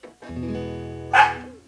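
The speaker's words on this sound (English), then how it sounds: "and my loud dog" A dog gives a drawn-out whining yelp followed by one sharp bark, close and loud.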